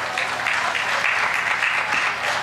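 Dense, steady applause from an audience at a student gathering welcomes a speaker, a continuous wash of clapping hands that stays loud and even throughout.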